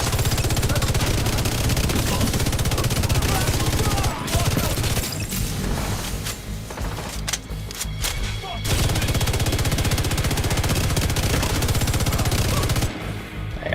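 The Iron Lung exotic light machine gun fires in The Division 2, a loud, dense, sustained stream of rapid shots with brief gaps where the firing stutters before resuming at full rate.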